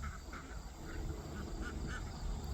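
Ducks on a small farm give a series of soft, distant quacks at an irregular rhythm over a low outdoor background.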